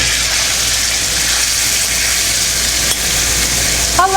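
Pork for Portuguese carne de porco à alentejana sizzles steadily and loudly in a smoking-hot pan with the heat just turned off, a dense continuous fry hiss throughout, with a brief clink near the end.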